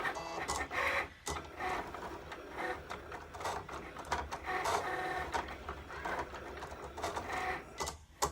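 A Cricut Explore Air 2 cutting machine runs through a design, giving a steady mechanical whirr with repeated carriage moves and brief pauses, close and continuous for the whole stretch.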